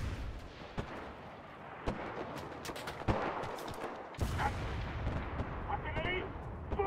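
Artillery barrage in the WWII shooter game Enlisted: repeated booming impacts and scattered shots in a busy, rumbling battlefield mix, fairly faint overall with sharp thumps spaced through the clip.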